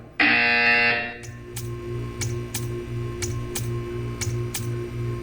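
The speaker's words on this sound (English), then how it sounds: "You will hear a buzzer." A loud electronic buzzer in the video game Portal 2 blares for about a second, then a steady series of sharp ticks follows at an even rhythm.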